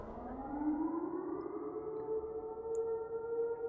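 Civil defense siren of Siren Head, the towering creature in a farm-field horror video game, wails steadily throughout, a loud rising tone settling into a sustained droning howl with layered harmonics and no speech.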